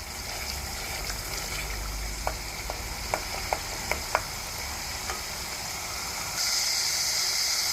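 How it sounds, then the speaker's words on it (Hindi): Onions sauté in a pan for a desi-style green bean and mince dish, with a continuous close sizzle, a scatter of sharp spatula scrapes and taps in the middle, and the frying swelling louder near the end. "इसको थोड़ा सा सौटे करते हैं"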